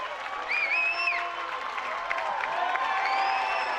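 A high school boys' varsity basketball crowd for Clay City cheering and applauding after a made three, with clapping, whoops and a few rising shouts over a sustained roar, while a commentator talks.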